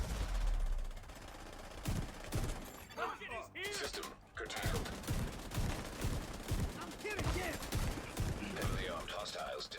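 Rapid automatic gunfire and sharp shattering bursts from the shooter game The Division 2 rattle in dense, repeated volleys, with someone talking over the combat.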